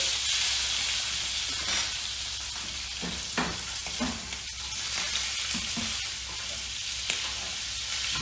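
A steak sears in a pan of 120-degree foaming butter just after being flipped, giving a loud, steady hissing sizzle with occasional spatters and light utensil taps, no voices.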